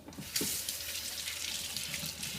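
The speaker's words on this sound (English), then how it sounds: "So here you're gonna rinse it. You're gonna take it to the sink." A kitchen tap runs into a sink as sausage casing is rinsed under the stream. The water gushes and splashes steadily and close by for a couple of seconds, with no talking.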